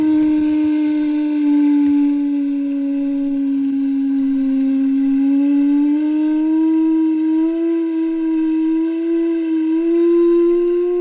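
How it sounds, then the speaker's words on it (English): A Stanley Steamer steam car being started gives off a loud, steady pitched whistling tone with a slight wavering drift, sounding alone for about eleven seconds. "You folks'll have to wait a few minutes while Francis' old man gets his Stanley steamer a-going."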